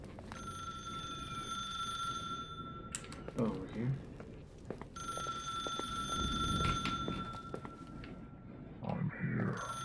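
Telephone ringing in The Suicide of Rachel Foster, a steady bell-like ring in repeated bursts with pauses, heard from a distance inside a quiet building while someone speaks briefly over it.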